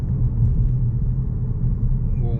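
A 2017 Ford Focus ST heard from inside while driving, a loud continuous low engine and road rumble with a steady drone and no clear shifts.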